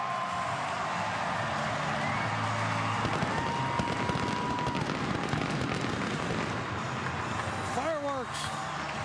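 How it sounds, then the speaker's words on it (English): Fireworks crackle and boom over a baseball stadium in Pittsburgh after a home run, a dense continuous roar of bursts mixed with crowd noise, with a voice speaking briefly near the end. "Fireworks."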